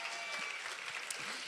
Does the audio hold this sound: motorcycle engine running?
no